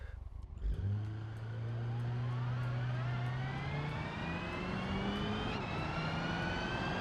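A 1,280 kg Mercedes A200 car revs hard and accelerates from a standstill toward 100 km/h, its engine note climbing steadily through rising gears, loud and close with continuous road and wind noise.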